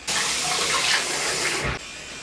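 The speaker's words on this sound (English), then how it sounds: "now I'm going to wet this again and rinse it off a little bit" Tap water gushes loudly into a bathroom sink for a quick rinse during a morning skincare routine, a steady close splashing rush that cuts off abruptly near the end.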